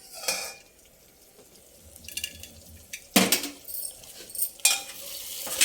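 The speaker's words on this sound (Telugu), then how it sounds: "కొంచెం సేపు కదుపుతూ ఉండాలి, లేకుంటే కింద అంటుకుంటుంది." Food stirred in a pot while tomatoes and green chillies sauté, with a spoon scraping and clinking against the pot in sporadic bursts, separated by quiet stretches with a faint background sizzle.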